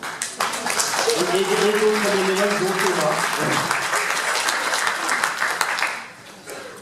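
Applause for volunteers at a French New Year's greetings evening ripples through a hall for several seconds, with someone speaking over the clapping before it fades near the end.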